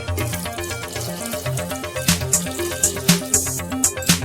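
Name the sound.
water poured into cooking pot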